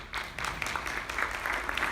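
Applause from an audience at a Democratic candidate forum, a steady wash of many hands clapping, fairly close and continuous for a couple of seconds.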